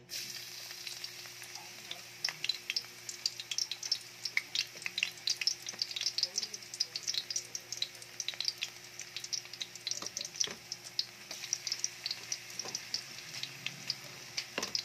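Garlic frying in oil for chicken adobo, a dense, busy crackle and sizzle that runs without a break, with stirring scrapes mixed in close by.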